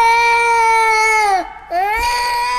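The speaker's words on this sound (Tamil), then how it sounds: "ஏதோ குழந்தை கத்துற சவுண்டு கேட்குது" A baby's cry in a night-shift horror video game, two long, loud, wavering wails separated by a brief breath-like break, close and clear with no talking over it.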